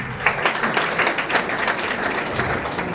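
A crowd at a welcome event in Gangakhed claps in loud, sustained applause, the dense mass of hand claps holding steady throughout.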